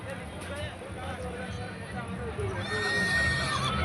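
A horse neighs at a horse fair beside the Anthiyur Gurunatha Swamy temple, its whinny rising clearly over crowd chatter and hoof clops, growing louder and closer toward the end.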